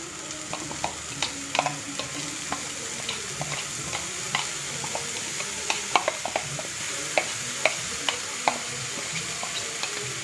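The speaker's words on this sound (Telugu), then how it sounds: "ఇప్పుడు మనం చాప్ చేసుకున్న బ్రొకోలీ వేస్తున్నాను" Chopped broccoli fries with onions in a pan, a steady low sizzle broken by frequent sharp clicks and taps of a spatula stirring against the pan.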